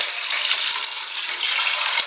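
About 1.5 liters of water poured into a pot holding a kilo of rice for masala rice, a steady, close rushing splash that runs unbroken with no talk.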